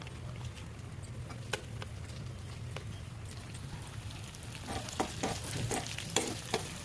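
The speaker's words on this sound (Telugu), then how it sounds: "వేసుకొని కలుపుకొని 2 నిమిషాల పాటు ఫ్రై చేసుకోవాలి" Ridge gourd and tomato curry sizzles steadily in a pan while a spoon stirs it, with light taps and scrapes that grow busier toward the end, close and fairly quiet.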